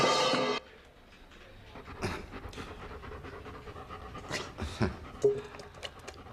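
A dog pants close by in quick, rough breaths, with a few soft whimpering sounds mixed in after a brief louder noise at the start.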